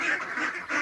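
Grown ducks quacking close by, with a few repeated loud calls in quick succession.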